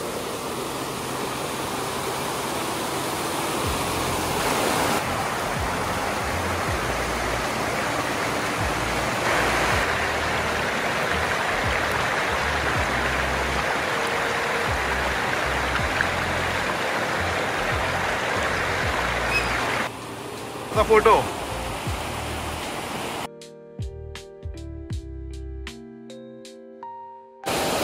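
A village stream with clear water runs over stones beside a small bridge after heavy May rain in Asore, a steady broadband rush that continues for most of the stretch before cutting away near the end.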